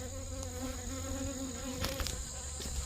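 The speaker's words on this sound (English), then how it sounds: "There's a few bees going in." Steady buzzing of many bees close by at a hive entrance, a continuous drone with a few brief clicks and knocks partway through.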